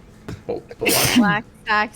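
Someone sneezes once, a sharp burst in the middle of a lively conversation among several people talking over each other.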